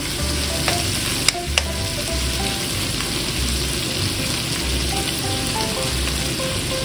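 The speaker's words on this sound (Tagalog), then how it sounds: "ganyan lang ginagawa ko dito, itong ating corned beef. Piniprito ko lang siya" Corned beef fries in a pan with a steady sizzle and crackle, broken by a few sharp clicks of a utensil, continuous and close, with no voices.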